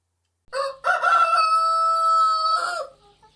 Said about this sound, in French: un coq chanta